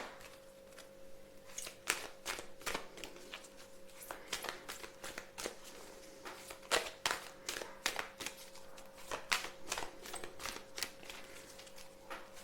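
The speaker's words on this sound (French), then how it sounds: "On va se tirer quelques cartes." Tarot-style playing cards snapping and riffling in a rapid, irregular series of crisp close taps and flicks, fairly quiet, with a faint steady hum underneath and no talking.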